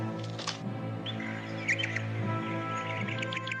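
A small bird chirps in short bright bursts in an animated folk story, over a quiet tonal music bed with no speech.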